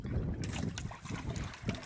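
Gusty wind buffets the microphone in low rumbling bursts, with faint water sloshing nearby.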